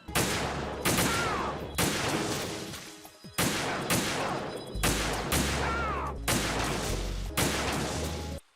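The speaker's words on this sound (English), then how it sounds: "I'm just gonna be kicking back with a sniper rifle." Gunfire from Metal Gear Solid 2 gameplay, loud repeated shots in a steady series of bursts with brief gaps, dense and close, with game music or effects beneath and no talking.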